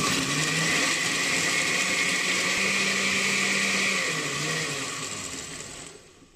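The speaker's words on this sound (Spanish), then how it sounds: "Lo ponemos a moler." A blender grinds fava beans with their broth in a loud, steady whir that holds for several seconds, then slowly winds down and fades near the end.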